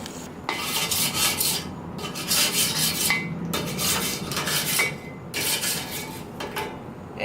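Metal brush scraping across a hot grill grate in repeated rasping strokes, several bursts of harsh scrubbing with brief pauses between, close and loud with no talking.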